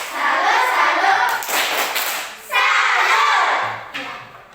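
A group claps hands together in sustained bursts, with a brief pause between two rounds, loud and close.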